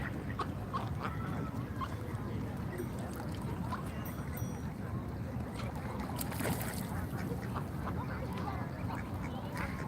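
Ducks quacking near a waterside edge in Washington DC, scattered calls over a steady outdoor wash of crowd and water noise, with faint voices in the background.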